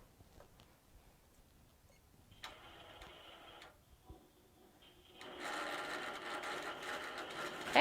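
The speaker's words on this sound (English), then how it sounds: "now it's going to stitch out the next row" A longarm quilting machine in a home studio hums and stitches, starting faintly in short bursts and then running steadily and louder toward the end.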